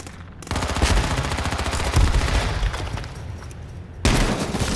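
Rapid automatic gunfire from the video game H1Z1, loud dense bursts of rattling shots nearly continuous across the moment, with a brief pause and then a fresh heavy volley near the end.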